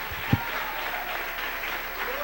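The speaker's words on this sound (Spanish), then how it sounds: "Dele ese aplauso al Rey" A church congregation applauding, a steady wash of clapping heard at a moderate distance throughout, with a brief thump near the start.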